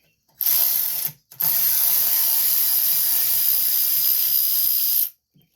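A hand ratchet fitted with a 5/16 socket loosens a bolt on a walk-behind vacuum's small engine, giving a close, bright clicking whir in two bursts: one short, then a longer sustained run.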